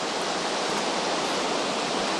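A creek rushes nearby in a loud, steady broadband roar, running continuously without any voices.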